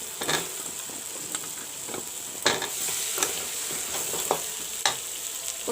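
Potatoes go into browning masala in a frying pan for a mustard and garlic sabji, with a steady sizzle and hiss broken by sharp scraping clinks of a spoon stirring, close and moderately loud with no talking.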